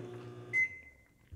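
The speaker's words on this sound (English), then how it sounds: "Then you'll set your time that you want the microwave to go, like for a minute, and then you'll hit start" A microwave oven gives a short electronic beep as start is pressed, then a faint hum carries on under a tone, ending with a small click; quiet and close, with no voices.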